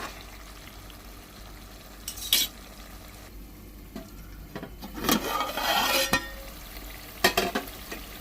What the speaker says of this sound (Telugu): పొడి మంచిగా మసాలా అంతా దొండకాయ పట్టేలా అట్లా కలుపుకోవాలి